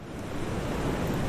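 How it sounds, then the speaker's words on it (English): Ocean waves from a sound effects pack, a loud steady wash of surf with a slight swell toward the end, no voices. "I might want to go to waves and I can find some ocean sounds"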